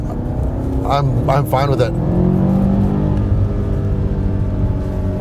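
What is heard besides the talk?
BMW M8 Competition Gran Coupe exhaust in sport mode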